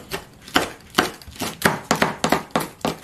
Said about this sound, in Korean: 재료를 이렇게 잘게 썰면은 나중에 떠서 드시기 좋아요